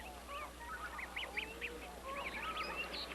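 Wild geese honk and chatter in a lively flock, with repeated nasal calls overlapping one another at close range against a steady low background hum.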